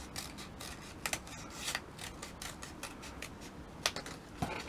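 Scissors cut a paper doily freehand, with a quick, fairly regular run of close crisp snips and paper rustle, with no talking.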